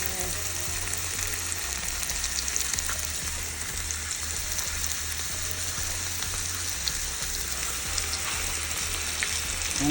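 Short ribs brown in hot grease in a cast iron skillet, a close, steady crackling sizzle with dense popping spatters and a low rumble underneath, continuing throughout without speech.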